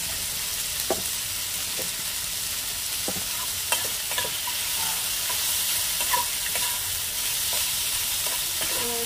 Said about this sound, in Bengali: একটু ভালো করে ফ্রাই করে নিই।